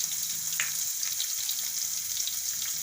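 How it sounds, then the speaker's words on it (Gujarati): Cumin seeds, green garlic and ginger crackle and sizzle in hot oil, a steady bright frying hiss that runs close and continuous with no voices. "તો એમાં આપણે જીરું નાખી દેવું અને લીલું લસણ નાખી દેવું આપણે,"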